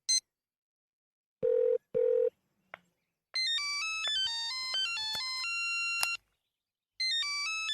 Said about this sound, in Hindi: राज, तुम मुझे फोन कर रहे हो?